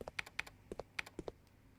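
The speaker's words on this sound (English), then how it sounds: "I can hear someone tapping on a keyboard out here." Keyboard tapping in a Resident Evil-style survival horror game, about a dozen crisp, evenly spaced keystrokes in quick succession, close and clean against a quiet background.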